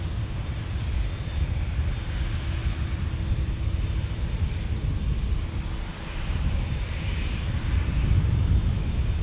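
A WestJet airliner arrives at San Diego airport, its engines a steady, broad roar that hangs heavily in the air throughout, with a low rumble underneath and no voices.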